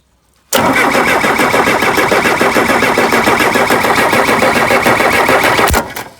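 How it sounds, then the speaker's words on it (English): A Case 580C loader engine, unused for five years, cranks with a rapid, steady churning that runs loud and unbroken for several seconds before cutting off abruptly. "we know that the engine turns over"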